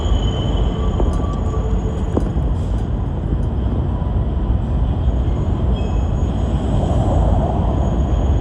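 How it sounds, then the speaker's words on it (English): A train rolls past on a New York City street, a loud, steady rumble and rattle of cars that fills the whole stretch, with faint metallic squeals near the start. "with the train going by"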